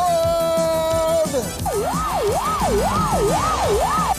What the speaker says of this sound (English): And there goes a police car.